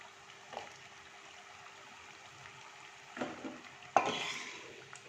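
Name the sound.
frying fenugreek leaf nimki in oil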